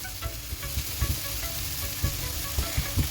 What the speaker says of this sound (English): I'm going to put that there on the oil, and I'm just going to fry these until they caramelize